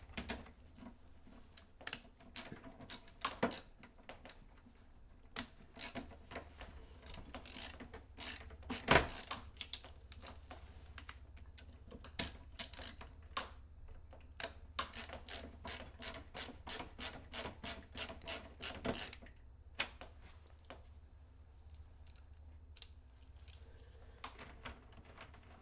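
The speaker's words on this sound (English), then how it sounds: "So, just gotta put those screws back on." Small screws being fitted back into a gaming PC build with an AMD 7800X3D and RTX 4090, heard as close, irregular mechanical clicks and ratcheting taps, with a quick burst of rapid ticks midway, all fairly quiet.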